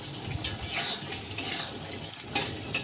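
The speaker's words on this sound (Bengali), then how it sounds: "এটা দিয়ে এখন ভালোভাবে নেড়ে চেড়ে নিতে হবে" Chili chicken with chopped green chilies stirred in a pan, a steady soft scraping and shuffling with a faint sizzle underneath and occasional sharper clicks of the utensil.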